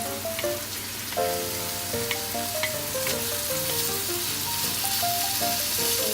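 Ground pork fries in a pan after onion for vegetable egg roll filling, giving a steady, soft sizzle with light crackles, heard under background music with no talk.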